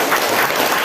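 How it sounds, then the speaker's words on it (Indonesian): Audience applause at a Hindu dharma discussion gathering in Bekasi, a brief dense wash of clapping filling the room at steady loudness with no voices over it. "Mari kita berikan tepuk tangan yang meriah"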